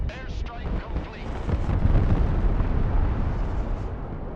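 Rumbling airstrike explosions in a video game, a heavy rolling blast that builds and lingers with crackling debris, loud and close, with voices present.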